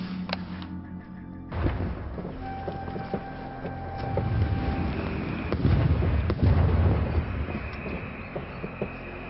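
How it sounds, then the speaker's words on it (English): Mortar shells burst nearby amid Stalingrad 1942 battlefield fighting, heavy booming thuds and rumbling over a dense, noisy war din, close and loud with no voices. "Mortar's coming rather close."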